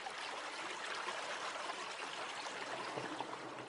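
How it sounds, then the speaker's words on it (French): A small river rising in a valley flows and trickles steadily, a close, even babble of water with no voices over it. "C'est une petite rivière qui prend naissance dans cette vallée."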